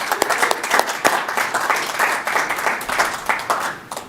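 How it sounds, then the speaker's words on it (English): A room of people at a school board trustees meeting claps for school staff, a dense, even round of applause lasting a few seconds, close and fairly loud with no talking over it. "So please join me in a round of applause."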